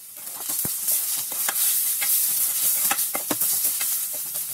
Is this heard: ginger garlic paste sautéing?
yes